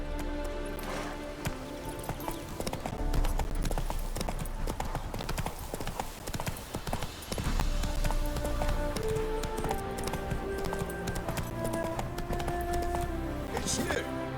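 Horse hooves clip-clop at a steady galloping rhythm in The Witcher 3, the footfalls close and continuous beneath game music and ambient sound, with a voice talking partway through.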